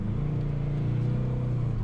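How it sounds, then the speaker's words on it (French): A modified Mercedes car engine idles with a low, steady, even purr, close and continuous, its deep rumble holding level without revving. "Le moteur qui ronronne"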